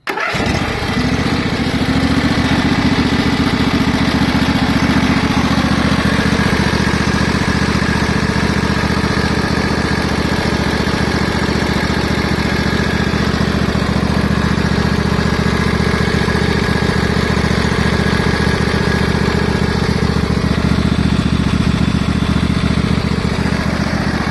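A small Briggs and Stratton Intek V-twin engine, warm after a push-rod and cylinder head replacement, sputters to life and then runs steadily at idle, loud and close, with a rhythmic throbbing putter throughout.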